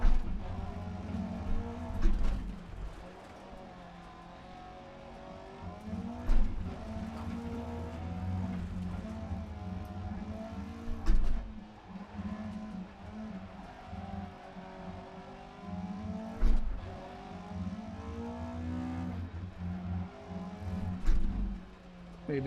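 A rally car in Dirt Rally 2.0 roars steadily through gear changes, its revving engine rising and falling with bursts of acceleration and sliding while drifting, loud and continuous.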